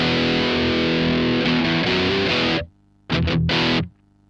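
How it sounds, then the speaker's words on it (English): Heavily distorted electric guitar chords through a Boss DS-1 distortion pedal ring out loud and buzzing, cut off abruptly, then a couple of short distorted stabs and a final chord. "And distortions, I've got Boss DS1."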